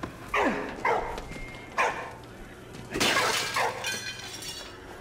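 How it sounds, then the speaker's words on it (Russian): A dog barking upstairs in the World War I video game Valiant Hearts: a series of five or six loud, sharp barks at irregular intervals, close and clear, with a rougher burst midway. "Что-то наверху у нас лает."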